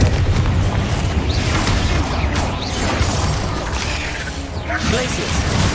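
Confringo explosive spell in Hogwarts Legacy: loud booming blasts over a dense, continuous combat din, with several bursts and crashes close together throughout.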